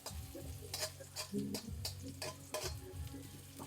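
Garlic sautés in a pot over an outdoor cooking fire at the start of a beef sinigang, a low sizzle broken by sharp clicks and scrapes of stirring, close and fairly quiet, with no speech.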